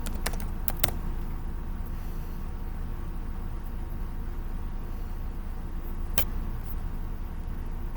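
Computer keyboard typed on in a few quick, sharp clicks near the start and one more later, faint over a steady low background hum.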